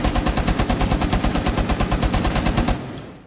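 Rapid automatic gunfire in the video game Rainbow Six Siege rattles in a loud, close, continuous burst of evenly spaced shots that stops abruptly near the end.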